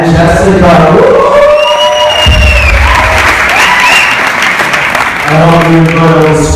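Wedding guests burst into loud applause and cheering for Amanda and Jessica during a best man speech, a dense crowd roar with whoops, framed by a speaking voice at the start and end.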